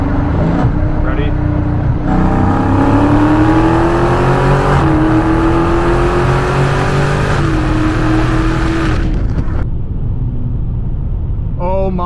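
A Dodge Scat Pack muscle car accelerates hard on a straight road in Mexico, its loud engine note climbing in pitch, then dropping sharply at quick gear shifts before rising again, close and dominant, fading near the end.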